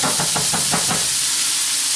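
Onions cooking in fat in a big soup pot for chicken soup, a loud continuous sizzling hiss with a few quick rhythmic knocks of stirring at first, then steady frying.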